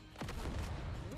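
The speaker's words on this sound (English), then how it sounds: "That was a good nade." A grenade goes off in a video game: one deep, rumbling boom that swells quickly and holds as a heavy, sustained roar filling the whole moment.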